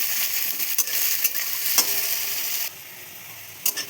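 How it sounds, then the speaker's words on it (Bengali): Potatoes and onions fry together in a pan for ghugni, a steady bright sizzle broken by several sharp scraping stirs of a utensil, ending with the hiss dropping quieter. "আলুর সাথে পেঁয়াজটা ভেজে নিয়ে ভেজে নেবো লাল লাল করে"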